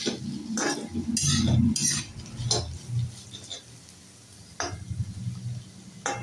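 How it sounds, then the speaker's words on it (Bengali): Beetroot, carrot, green chilli and onion fry softly in a pan, with stirring scrapes and metallic clinks of a utensil against the pan over a low, steady sizzle. "আর এই আমার এখানে বিট, গাজর, কাঁচা লঙ্কা, পেঁয়াজ এগুলো সব আমার ভাজা ভাজা হয়ে গেছে।"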